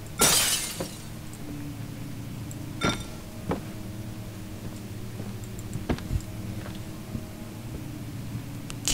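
Glass shatters with a sharp crash at the start in Amnesia: The Dark Descent, followed by a few scattered faint clinks and ticks over a low humming ambience, with no talking.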